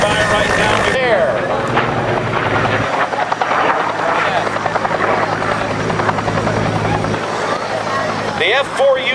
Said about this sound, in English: it's basically the same Huey helicopter that proved itself in the Vietnam War back in the mid-60s to the early 70s. Taxiing by right now there.